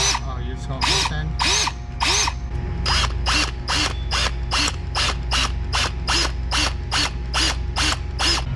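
Power drill boring two small holes into a crankshaft seal on a rare E39 BMW, running in repeated short bursts of whirring with brief pauses, close and loud, as people talk quietly in the background.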